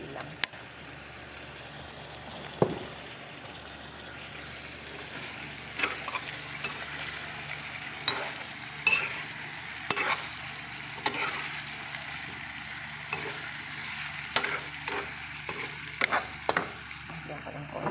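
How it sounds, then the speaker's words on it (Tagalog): Chicken sautéed in tomato sauce in a pan for chicken asado: a soft, steady sizzle with intermittent scraping clacks of a utensil stirring, low and close, with talk heard at times. "Igisa ko siya sa tomato sauce guys."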